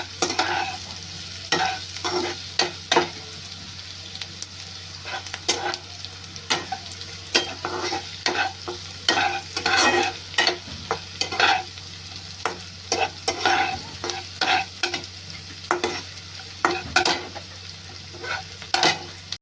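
Vegetables roast in a pan ahead of the okra, with a constant sizzle broken by frequent scraping stirs and clinks of a spoon against the pan, close and busy.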